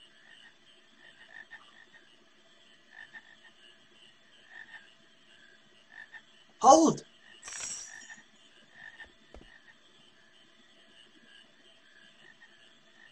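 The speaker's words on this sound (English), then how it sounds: "Aha, frogs." Frogs croak in Final Fantasy IX, faint repeated croaks pulsing at a steady rhythm in the background, broken by a short shouted voice and a couple of louder splashy thumps near the middle.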